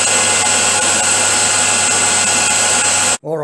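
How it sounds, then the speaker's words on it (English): A milling machine runs a 6mm cutter through a weld, making a loud, steady high-pitched whine with a dense grinding buzz that holds continuously before cutting off abruptly near the end. "Alright, we've finished milling our weld down to depth."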